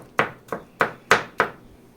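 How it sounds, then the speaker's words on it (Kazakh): An onion being finely chopped with a knife on a board: five crisp, evenly spaced thuds in quick succession, close and clear with no talking. "осылай пиязымызды тураймыз. Майда етіп турап алу керек."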